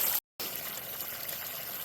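Garden pond waterfall spilling down onto rocks, a steady broadband rush of falling water, close and continuous after a brief cut.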